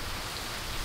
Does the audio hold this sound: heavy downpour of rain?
yes